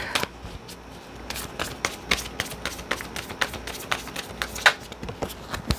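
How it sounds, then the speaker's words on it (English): Cards from a tarot-style deck riffle and tap in quick, uneven bursts, close and fairly quiet, then a card is drawn from the pack. "Let's pull a card from this deck."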